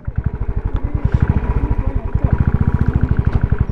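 A motorcycle ridden on the magnetic hill in Ladakh thumps with a loud, close, rapid and evenly pulsing engine beat that holds steady throughout, with faint clatter and brief background voices.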